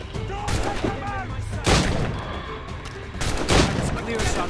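Gunfire in Assassin's Creed Rogue: a battle at a fort gate, with musket shots and heavier booming volleys going off at intervals, two especially loud blasts standing out, amid shouting soldiers.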